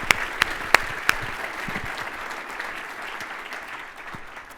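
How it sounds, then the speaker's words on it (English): Applause from guests at a charity dinner event, beginning with a few sharp individual claps that swell into a moderate, even round of clapping and slowly taper off. "Please give yourselves and these hunger-fighting leaders a round of applause."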